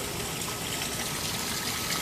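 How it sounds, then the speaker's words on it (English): Water from a hilltop source runs through a dry creek bed in a botanical garden butterfly way station, a continuous close trickling and babbling flow with no talk. "this water coming that's out at the top of the hill and just running through this kind of dry creek bed"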